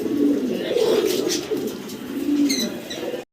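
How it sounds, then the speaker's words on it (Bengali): Fancy pigeons at a pigeon farm coo in low, rolling, repeated calls close by, with the birds' throaty murmurs rising and falling over a few seconds before the sound cuts off abruptly. "কবুতরগুলো খুব অ্যাক্টিভ আছে"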